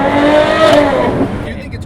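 A Ferrari 812 Competizione fitted with a full titanium exhaust revs hard, its raw engine note rising and falling in a loud, close blast before dropping away near the end.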